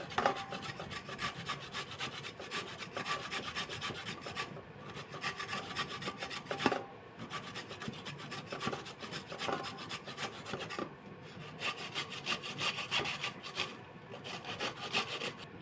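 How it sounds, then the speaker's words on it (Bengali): A carrot being grated finely gives a continuous close raspy scraping, repeated rhythmic strokes on the grater with brief pauses, steady and alone without talk. "গাজরটা প্রথমে একটু ঘষে নেব মিহি করে ঘষে নেব"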